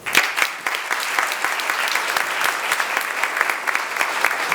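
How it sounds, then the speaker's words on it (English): An audience at an annual benefit awards dinner gives a round of applause, a dense, even patter of many clapping hands sustained throughout at moderate distance. "Let's have a round of applause for Joan and the NCADD."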